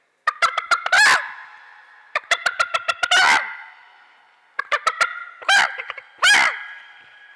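On a festival stage, a mimicry artist imitates a hen clucking. Each of several bursts is a run of quick, clipped clucks that ends in a longer, louder squawk, with short silences between the bursts.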